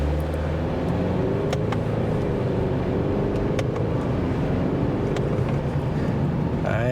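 A 2024 Subaru Crosstrek Sport accelerating in manual shift mode, heard from the cabin as a steady low engine and road rumble with some wind noise.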